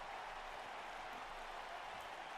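Crowd cheering in the WWE 2K wrestling video game, a steady, dense wash of synthetic arena noise that holds at an even level throughout with no voices standing out.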